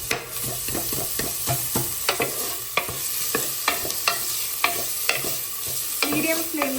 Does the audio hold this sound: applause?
no